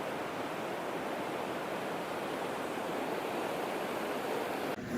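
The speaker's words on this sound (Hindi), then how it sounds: "किलकोरियां करता हुआ पानी" Mountain water in Kashmir rushing and gurgling close by, a steady broadband wash of flowing stream noise with no pauses, fairly loud and uninterrupted.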